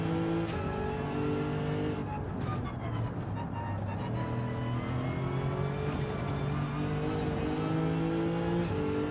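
A racing car engine in Gran Turismo 7, played in VR, drones steadily throughout with rising and falling revs and gear changes, loud and continuous, with a brief whoosh of another car passing partway through.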